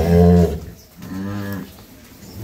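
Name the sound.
dairy cows mooing on a farm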